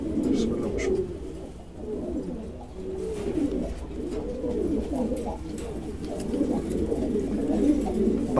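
Pigeons coo steadily in a loft, overlapping throaty coos rolling on without pause over a dense, close flock murmur, with faint voices in the background.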